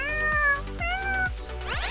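A cat meows in drawn-out, high, wavering calls over a steady rhythmic music backing, with no talking.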